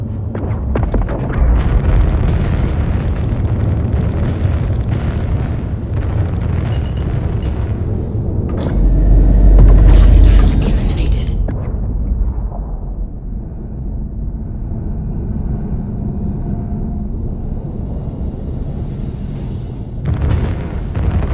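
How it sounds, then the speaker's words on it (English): Spaceships explode during ship combat in Star Citizen. Rumbling blasts and booms layer over a continuous roar, and a big, loud detonation peaks near the middle before the din settles to a lower drone. "Enjoying the improvements of the audio and visual effects during ship combat, especially when the ships explode"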